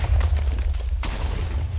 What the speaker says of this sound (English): So these blow up first, propelling that over there, and then that blows up because it was delayed because of the repeaters.